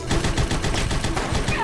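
A sawed-off shotgun in the Huntdown video game blasting in a fast, dense run of loud shots, mixed with game effects and a voice speaking over it.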